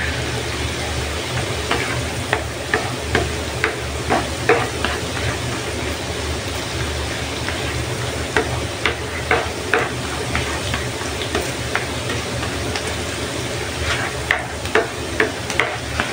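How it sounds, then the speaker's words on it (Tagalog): Garlic sizzles steadily in melted butter in a pan, a dense continuous frying hiss with scattered stirring clicks and scrapes, close and fairly loud throughout. "lutuin lang natin yung ating garlics sa ating tinunaw na butter"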